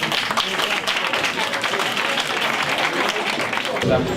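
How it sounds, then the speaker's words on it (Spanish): Applause from a carnival audience at an Entroido event, dense continuous clapping from many hands throughout, loud and close, fading slightly at the very end. "Un aplauso"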